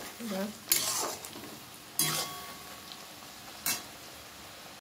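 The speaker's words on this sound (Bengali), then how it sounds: "এবার দেব হচ্ছে মশলাগুলো কষিয়ে নেব।" Ground spices being fried and stirred in a pan for biryani, with three sharp scraping strokes of a spoon against the pan over a soft, steady sizzle.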